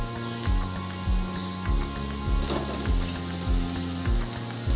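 Capsicum hits a hot pan with onion and green chillies for chow mein and sizzles steadily. A rhythmic series of scraping strokes, likely a spatula, runs across the pan throughout, with no talking.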